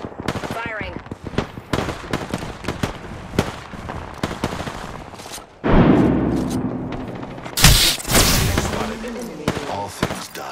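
Apex Legends gunfire while playing Caustic: rapid bursts of close, loud shots and automatic fire, then a heavy sustained blast, over a busy game soundscape.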